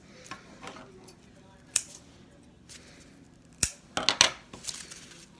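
Scissors snipping the ends of weaving strands nearby, with several sharp, crisp cuts scattered through the quiet and a quick cluster of snips near the end.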